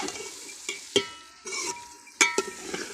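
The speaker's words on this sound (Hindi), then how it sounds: "मसाले के अंदर भुनाई दाल की अच्छी तरह करनी है।" Split chickpea dal fries in spices in a pan as a utensil stirs it, making scraping sweeps and a few sharp clinks against the pan over a soft sizzle.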